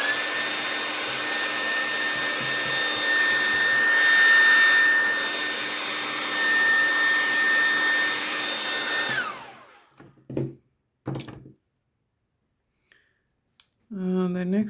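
A hair dryer blows steadily and loudly for about nine seconds while a fabric Christmas folio craft project is dried, then it switches off, leaving a few short handling knocks and a brief voice at the end.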